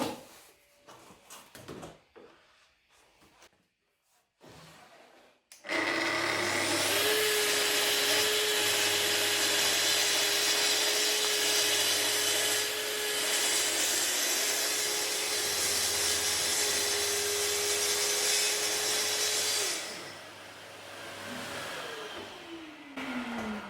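Portable power saw cutting wood for a front door during on-site joinery: after some handling clatter, a loud close motor whine holds steady for about fourteen seconds with a rough cutting rasp, then winds down.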